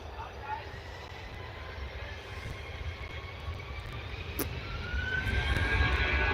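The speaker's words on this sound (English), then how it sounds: "Here we go then with the A320 Scandinavian" A Scandinavian Airbus A320 airliner in old livery at Oslo airport, its broad engine rumble steady and building louder toward the end, with faint voices nearby.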